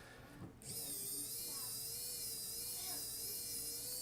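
A Xiaomi WOWStick electric screwdriver whirs with a thin, high motor buzz as it backs out a longer screw, starting after a short pause and running on steadily, close and quiet.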